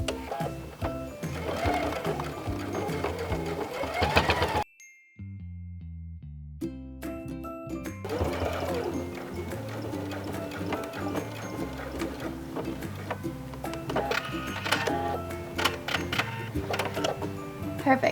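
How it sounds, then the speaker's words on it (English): A sewing machine stitches along the long edge of a tote bag pocket, whirring steadily with a brief pause in the middle before resuming at a continuous pace. "I'm gonna go ahead and sew across one of the long edges, and it's going to be the one that doesn't have the opening"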